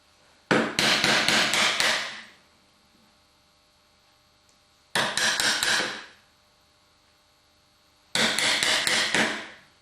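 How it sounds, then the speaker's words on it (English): Wide chisel chopping out dovetail waste in wood, heard as three separate bursts of rapid, loud mallet-driven blows, each lasting about two seconds with quiet pauses between, over a faint steady mains hum. "you need to use the widest chisel that you can sort of fit in the gap, and chop away."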